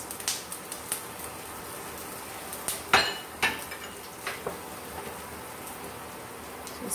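Curry leaves and freshly ground green chilies land in a hot pan, giving a few sharp clattering hits and spits around the middle over a faint continuous sizzle, with no talking.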